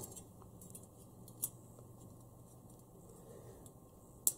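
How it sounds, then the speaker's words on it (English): Tamiya photo etch scissors snipping photo-etched metal mesh parts for a Hobby Design LB Aventador model car kit: two faint, sharp, close snips spaced a few seconds apart in a quiet room. "Just use the scissors there to cut that out."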